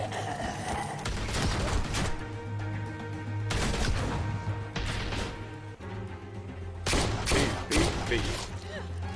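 Gunfire in The Walking Dead: A New Frontier video game, repeated bursts of shots with crashing impacts over a steady low hum, loud and dense across the whole stretch, with voices talking over it.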